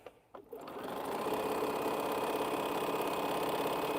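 A sewing machine stitches quilt squares, starting after a few soft clicks and settling into a rapid, steady mechanical whir that runs continuously and fairly loud to the end.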